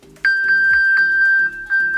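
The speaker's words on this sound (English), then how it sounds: "So this is a beep that my watch makes when I've lost my phone." A smartwatch sounds its find-my-phone alert as a loud, close series of bright electronic chime pings, repeating about every quarter second in a fast, even rhythm.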